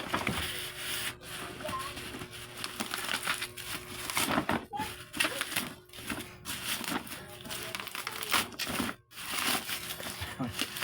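A parcel package is unwrapped up close, with bursts of crinkling and tearing plastic and cardboard handling, some sharp crunches and pauses, while someone talks quietly throughout.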